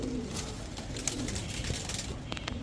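Golla pigeons, a paired set of males and females, give soft repeated coos near by over a faint background hum, with no talking.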